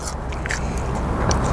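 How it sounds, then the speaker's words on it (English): Triple cooked fries being bitten and chewed close up, giving a few crisp crunches and scraping crackles over a steady background hiss, with no talking. "I just want to show you how crunchy these triple cooked fries are."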